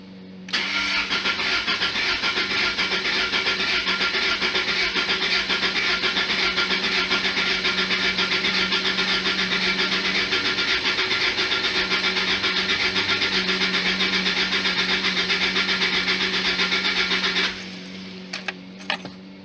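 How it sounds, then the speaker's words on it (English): A 1991 Lotus Elan engine turns over continuously with a steady, loud mechanical whir for about seventeen seconds, then cuts off, leaving a few faint clicks. "let's start cranking"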